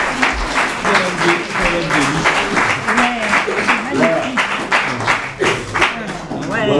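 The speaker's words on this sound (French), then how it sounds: "on l'applaudit" Audience applause at a town ceremony in Martel after a medal presentation, steady clapping throughout with voices and chatter mixed in beneath it.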